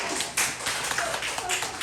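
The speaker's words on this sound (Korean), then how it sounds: "박수 한번 해주세요" Clapping from a church congregation during a worship service: a brisk, fairly close burst of hand claps, irregular and busy, with no talking over it.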